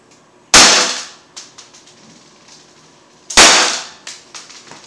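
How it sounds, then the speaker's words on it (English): BB gun fired at a penetration test target: two sharp, loud cracks roughly three seconds apart, each trailed by smaller ticking impacts as BBs bounce back off the target. "I'm only gonna let go of maybe like 2-3 shots"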